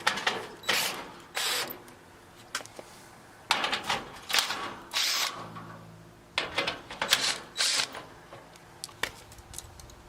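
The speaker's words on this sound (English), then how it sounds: "I'm using a drill, 11mm bolts." Cordless drill driving 11mm bolts into an air conditioner unit, heard as repeated short bursts of whirring and clicking, close and fairly loud, separated by brief pauses.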